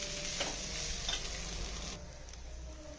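Poha is stirred in a hot pan, giving a steady sizzling hiss with soft scraping strokes. The sound drops noticeably near the end, and no one speaks.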